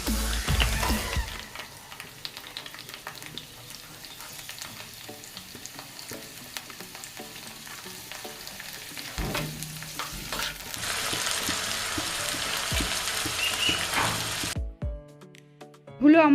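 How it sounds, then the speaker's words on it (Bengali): Beans and carrots sizzle steadily as they fry in hot mustard oil for a vegetarian khichuri, with close, continuous crackling and occasional stirring scrapes throughout. "তেলটা গরম হলে আমি এতে বিনস আর গাজরগুলো দিয়ে একটু ভেজে নেব।"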